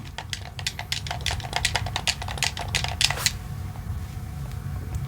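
Fast typing on a computer keyboard, a rapid run of crisp clicking keystrokes for about three seconds over a low background hum, then the clicking stops and only the hum remains.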